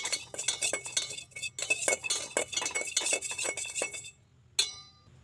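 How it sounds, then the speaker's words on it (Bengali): A spoon adds tea leaves to a hot pan and stirs them as they fry, making rapid, busy metallic scraping and clinking that stops abruptly, followed by one last sharp clink. "এবার আমি এখানে 2 চামচ মতো চা পাতা অ্যাড করছি। চা পাতাটাকে ভেজে নিতে হবে হালকা আছে।"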